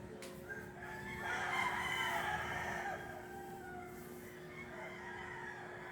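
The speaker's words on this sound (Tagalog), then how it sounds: "Mamimiss natin itong tilaok ng manok." A rooster crows a long, drawn-out call over steady background hum, moderately distant, with no voices.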